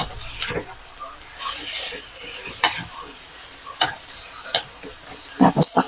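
Sautéed patola (sponge gourd) is stirred in a pan, with a light sizzle under a series of sharp, close clacks and scrapes of the spatula against the metal, ending in a quick cluster of knocks.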